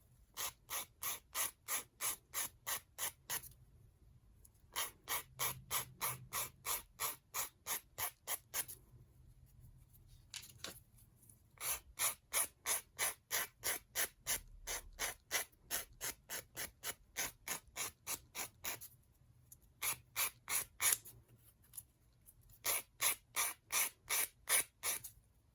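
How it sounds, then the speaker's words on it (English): A big nail file sands the edges of small wooden craft pieces for a raccoon figure, fast rhythmic rasping strokes in repeated bursts separated by short pauses, close and quiet. "I'm just really kind of sanding away at that, at those sides."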